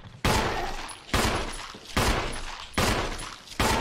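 Five heavy video game gunshots in Resident Evil 1 boom at a slow, steady pace, each blast loud and close with a decaying echo, no voices in between.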